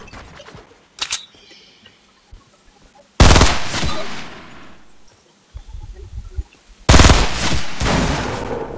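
Bursts of rapid automatic gunfire in Fortnite, two long loud sustained volleys separated by quieter gaps with a few isolated sharp shots, close and harsh, with no talk.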